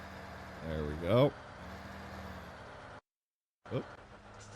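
Semi-truck engine in Farming Simulator 2015 on Xbox One: a low, quiet drone with a couple of rising revs, cut by a short stretch of silence before another rev.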